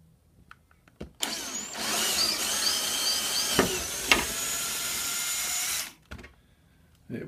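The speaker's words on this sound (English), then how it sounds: "Let's drill this hole." A power drill with a 6.5 mm bit whirs steadily for about five seconds drilling a hole, loud and close, with a brief pitch dip midway before it stops abruptly.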